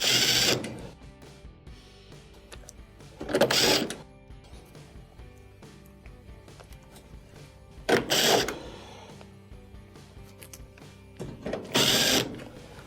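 Quarter-inch screws being driven back into a washing machine's back panel, with four separate bursts of whirring driver noise and rattling, spaced a few seconds apart against faint background hum.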